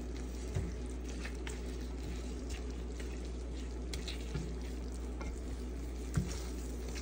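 Food being stirred into a sauce in a lidded pan while cooking dinner, a steady low sizzle and bubbling throughout with a few soft utensil knocks, close and fairly quiet, no talking.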